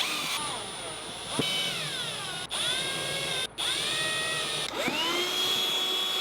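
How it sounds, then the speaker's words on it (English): A power drill boring a small hole for mounting cleats on a PACKOUT conversion, a steady high whine with a few brief dips as the trigger is eased, close and loud. "Then I drilled a small hole"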